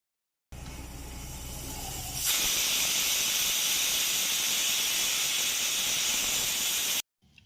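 A steady, loud hiss of steam escaping from a pressure cooker whistle while cooking soaked dal, building suddenly after a softer rumble and continuing without a break until it cuts off.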